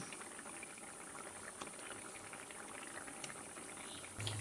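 A pot of curry with boiled potatoes bubbling at a gentle simmer, a soft continuous boil with faint liquid movement and a brief thump near the end as omelettes go in.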